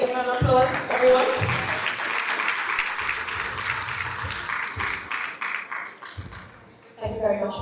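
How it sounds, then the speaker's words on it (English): Graduation-ceremony audience applauding at a secondary school, a dense steady wash of clapping with talk and a brief lull before voices resume near the end. "All right, let's give them an applause, everyone."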